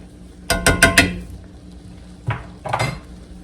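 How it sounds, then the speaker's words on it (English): A spoon stirs gravy with ketchup in a pot, sounding as a quick run of four loud metallic clanks and scrapes against the pot, then two more a moment later, close and clear over a quiet room. "Give this a stir."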